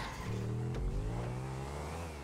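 Motorcycle engine in a GTA V video game race, a loud, close buzzing drone whose pitch holds and slowly shifts for about two seconds, heard alone without talk.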